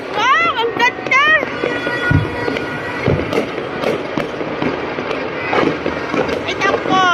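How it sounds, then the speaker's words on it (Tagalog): New Year 2025 fireworks pop and boom repeatedly at varying distances, with sharp loud cracks among a steady crackle, under excited overlapping voices and whistling shrieks. "Ang daming nagpa-fireworks."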